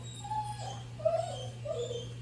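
An excited dog whimpers and yips in a kitchen, giving several short high-pitched whines in quick succession at close range.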